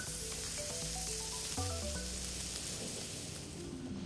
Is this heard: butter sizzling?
yes